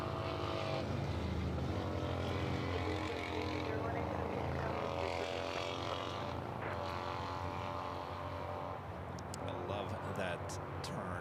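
An aircraft moves on runway 25 left at LAX, heard as a continuous loud engine drone and whine that holds steady, with voices and radio chatter layered over it and a few sharp clicks toward the end.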